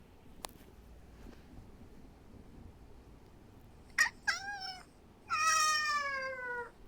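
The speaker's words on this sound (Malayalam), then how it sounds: "പൂച്ച കരണം." A cat meows several times, two short calls followed by a longer drawn-out wail, fairly close and clear over a quiet background.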